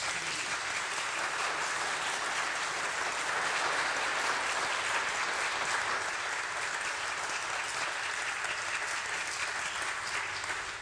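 Sustained applause from a concert audience for the performers, an even, dense wash of clapping that holds steady throughout at a moderate distance.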